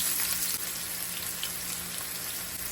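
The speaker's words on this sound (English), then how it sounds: "And now we're just going to put our chicken on." Chicken pieces sizzling in hot olive oil on a stovetop, a steady dense crackle and hiss close by with no talking.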